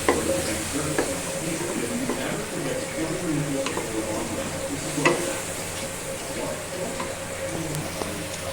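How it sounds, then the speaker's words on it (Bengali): Spices sizzle in a hot pan for a jackfruit curry while a utensil stirs and scrapes steadily, with occasional clinks, close and continuous. "মশলাগুলো ভালো করে বেজে ভাজা হয়ে যাচ্ছে আমার"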